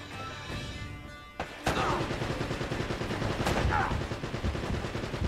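Gunfire in the action video game Uncharted: Drake's Fortune, a few sharp shots and bursts over a steady game background rumble, moderately loud and continuous.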